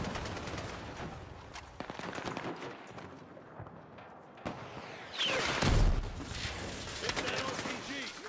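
Weapon fire in Battlefield 6 during an RPG exchange: repeated gunshot bursts and blasts over a busy battle mix, with a louder swell partway through, and voices talking over it.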